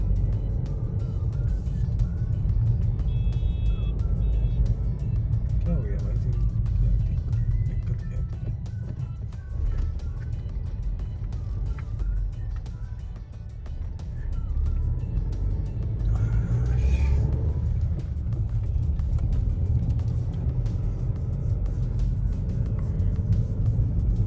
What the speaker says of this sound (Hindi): ये गाड़ी पता नहीं क्यों दिल्ली का नंबर है, बट लद्दाखी लोग ही बैठे और पूरा रिवर्स करके ले जा रहे हैं।